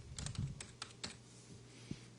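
Typing on a computer keyboard during C# coding in XNA, a quick run of close, crisp key clicks with short pauses and a louder final tap, alone without talk.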